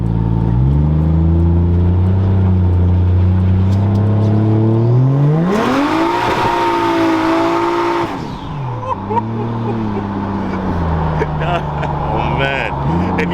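A Datsun 620 pickup with a swapped-in 1JZ engine pulling hard, its engine note climbing steadily into a loud rev with a burst of broadband hiss as the tires break loose, then easing off, heard from inside the cab alongside talk.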